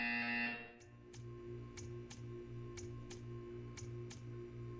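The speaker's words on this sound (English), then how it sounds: "When you hear the buzzer, stare at the art." A sustained electronic buzzer tone in the video game Portal 2, with a steady pulsing drone, joined by sharp regular ticks about twice per second, no talking.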